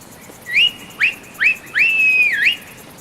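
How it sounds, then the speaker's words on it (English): Whistled calls to summon a creature in the video game Skyrim: four clear rising whistle notes, the last one long and sustained with a dip at its end, close and alone with no talk. "Let's see if we cannot call upon it by getting down here and whistling."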